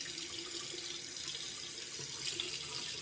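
Kitchen or bathroom tap running steadily into a sink as makeup brushes are wetted under it, a continuous close splashing hiss.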